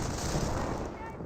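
Demolition charge detonating in the Company of Heroes real-time strategy game, a loud, broad, rumbling blast that fills the whole clip and then tapers off slightly.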